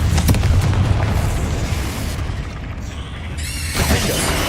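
A Confringo fire-blast spell from Hogwarts Legacy bursts with a loud, booming explosion, its crackling rumble fading before a second sharp blast and whooshing flare near the end.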